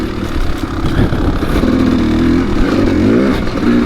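A Kawasaki KX dirt bike motorcycle rides a mountain single-track trail at dusk, its engine droning and revving up and down steadily, close and loud throughout.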